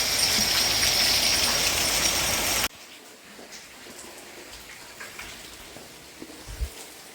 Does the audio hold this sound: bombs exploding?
no